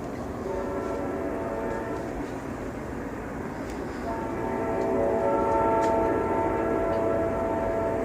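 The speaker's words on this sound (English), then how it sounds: "You can hear the train." A train rumbles past at a distance, a steady low roar with tonal hum that swells slightly toward the end.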